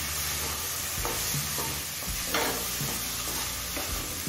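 Chopped broccoli and vegetables frying in a pan for vegetable oats, a steady dense sizzle close by with occasional stirring knocks and scrapes, no talk.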